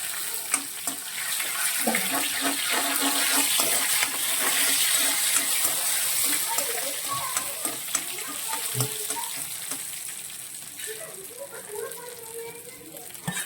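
Dried chillies and curry leaves fry in hot oil in a pan for shrimp thoran, a steady crackling sizzle with stirring clinks, partly under a voice talking.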